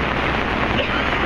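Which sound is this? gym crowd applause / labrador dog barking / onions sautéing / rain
rain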